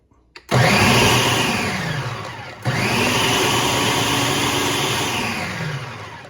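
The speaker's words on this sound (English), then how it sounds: "now we're going to pulse them up a few times and then puree them" A food processor pureeing sauce ingredients for Korean short ribs: two long loud motor runs, each starting abruptly and whirring steadily, with a short break between them.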